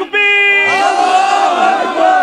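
At a Bengali religious gathering, a crowd shouts a slogan: one strong voice starts the call, then a loud massed roar of many voices joins in and holds for about two seconds.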